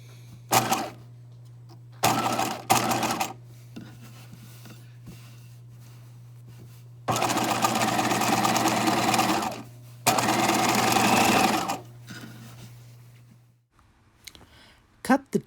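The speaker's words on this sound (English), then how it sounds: "Sew this hem up by hand or machine with a large and easy to remove stitch that can be altered for future wearers." A sewing machine stitches up a hem in several separate bursts of rapid, close mechanical whirring, separated by pauses filled with a low steady hum and a few small clicks.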